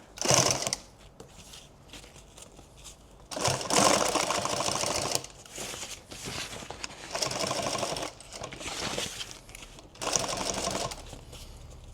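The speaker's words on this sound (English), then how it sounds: "This is how sewing on that 111 will be, that black machine over there, because there's no reverse." A model 111 industrial sewing machine stitches in several loud, close bursts of rapid mechanical whirring, separated by short pauses, with no talking.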